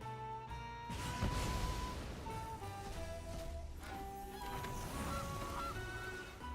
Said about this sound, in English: I got a goose!